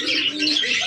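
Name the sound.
chocolate doma male pigeon cooing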